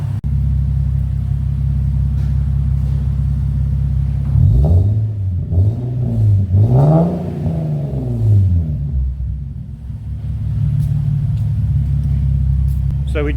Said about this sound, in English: I'll give it a couple of gentle revs.